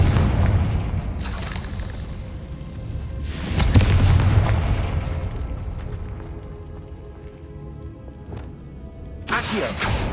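A Confringo fire spell in the video game Hogwarts Legacy bursts into loud explosive booms, with sharp broadband blasts near 1, 3.5 and 9.5 seconds over a rumbling, crackling low-end bed that lingers between hits.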